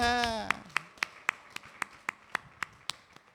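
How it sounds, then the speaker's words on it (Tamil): A church congregation claps in a steady, even rhythm of about a dozen sharp claps, following a sung or spoken voice at the start. "கையை தட்டுங்க"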